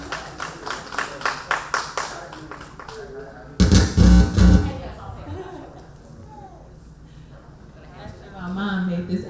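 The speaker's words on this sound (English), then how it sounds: "can we get a round of applause for this" Short burst of audience clapping at a community event, rising loudly for about a second before fading, following rhythmic taps and with someone speaking afterward.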